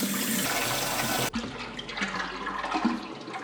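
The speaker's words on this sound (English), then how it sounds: "Let's begin filling it up." Water filling a fish tank: a loud, steady rush of pouring water that cuts off sharply, followed by softer trickling and splashing nearby.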